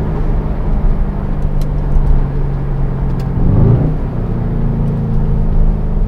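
A 2020 Mercedes-AMG C63 S estate's engine while driving in Sport Plus mode, a loud steady low rumble from inside the car that briefly swells as the revs shift, then settles into a constant drone.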